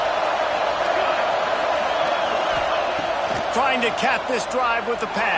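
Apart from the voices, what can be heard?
football stadium crowd cheering loudly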